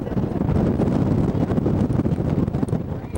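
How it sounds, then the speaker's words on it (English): Strong wind on a Hawaiian mountaintop buffets the microphone in a continuous loud roar with gusty rumbling, no other distinct sounds. "Very windy up here."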